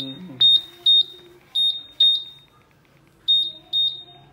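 Shrill electronic motorbike anti-theft alarm beeps in short paired bursts, loud and close, repeating several times with a brief pause in between.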